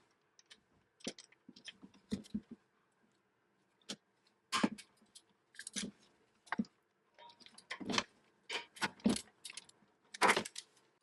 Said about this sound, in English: So I have a socket on a long extension so I don't have to reach back as far to loosen these.